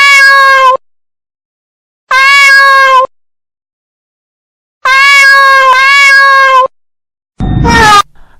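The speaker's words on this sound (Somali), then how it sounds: "bisadu ay la hadasho bani aadamka iyadoo isticmaalaysa codka ay caanka ku tahay ee yaw" A cat meows loudly and close by, four clear separate cries with silent pauses between them, the last one shorter and rougher.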